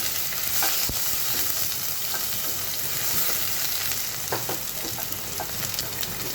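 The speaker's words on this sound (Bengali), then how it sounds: "প্রথমেই পেঁয়াজ কুচিটা দিয়ে নিচ্ছি তেলের মধ্যে" Chopped onion frying in hot oil in a pan, a loud continuous crackling sizzle with occasional stirring scrapes, close up and without talking.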